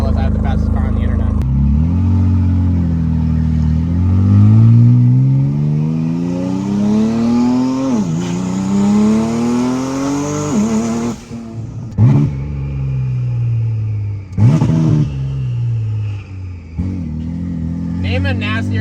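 A loud Nissan GT-R engine, built to about 2000 horsepower, revs up repeatedly through rising gears, with sharp pops and crackles between shifts and the pitch climbing and dropping.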